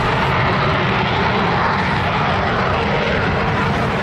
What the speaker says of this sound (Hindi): यूरोप से बहुत ही खतरनाक फाइटर जेट लॉन्च हो रहे हैं।